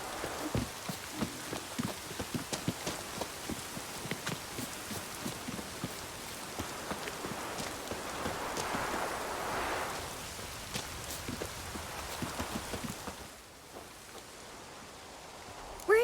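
Steady rain pours in The Witcher 3, a dense, continuous patter of drops on surfaces with scattered sharper splashes, fairly close, thinning slightly toward the end.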